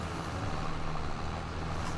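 Steady, loud engine drone from a big tractor pulling a large cultivator or disc harrow across a field in Farming Simulator 22, a continuous low rumble with no talk.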